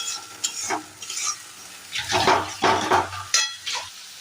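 Fish paste water poured into spices frying in a pan for Bengali fish kachori sets off loud bursts of sizzling, with a utensil stirring and scraping between them and no talk.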